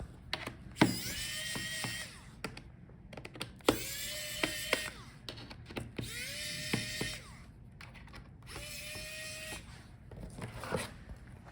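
A small electric screwdriver removes the bottom screws from a Dell Precision 7550 laptop, whirring in four or five separate bursts of a few seconds each, close and clear, with faint clicks between the runs.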